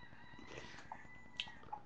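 A rooster crows in the distance, faint and thin against quiet background noise, with no voices.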